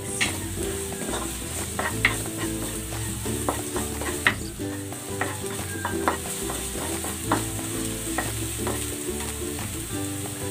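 The white part of onion leeks sautéing in a pan with ginger crackles in a loud, continuous sizzle, while a utensil repeatedly scrapes and taps against the pan and no one speaks.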